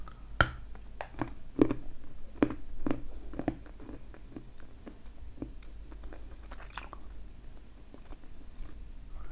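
A very salty, dense, rough light-grey Kyrgyz snack is bitten and chewed up close, giving a run of sharp crisp crunches and bites at irregular intervals, several loud snaps early on, with no talking.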